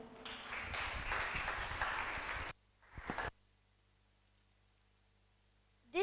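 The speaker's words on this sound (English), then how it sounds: "We all deserve to give ourselves a huge round of applause." A school junior graduation ceremony audience applauds, a dense patter of clapping for about two and a half seconds before stopping abruptly, followed by a short burst of noise and then near silence.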